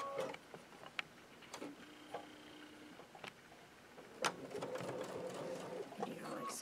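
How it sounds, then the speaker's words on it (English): A sewing machine stitching across fabric and over pins during a quilting session, faint intermittent mechanical clicks and taps with short bursts of louder knocks, fairly quiet and close, with no clear speech. "Sewing over pins."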